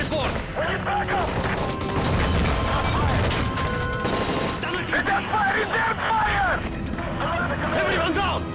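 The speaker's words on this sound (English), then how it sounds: "That's gunfire! Hijackers are taking the plane!" Gunfire during a plane hijacking in Call of Duty Modern Warfare 3, bursts of shots and crashes scattered through chaotic shouting voices and radio chatter inside an aircraft cabin.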